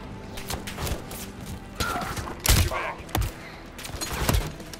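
A grenade blast in the Call of Duty Modern Warfare III campaign lands as a heavy, booming thud amid scattered gunfire and other game effects, with some voices audible.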